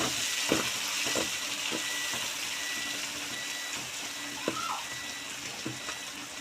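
Curry leaves fry in hot oil for koththu, giving a soft, steady sizzle with faint crackles and light clinks of a spoon stirring the pan, fairly quiet and close.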